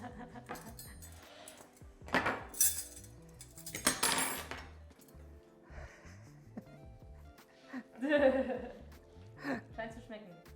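Plates shuffled and pushed around a dinner table, several clattering ceramic knocks and scrapes in short bursts, with people talking at the table in between.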